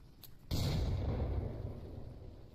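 Frag grenade exploding in the virtual reality shooter Onward, a faint tick followed by a single sudden heavy boom that rumbles and decays over two seconds, heard at a distance without speech.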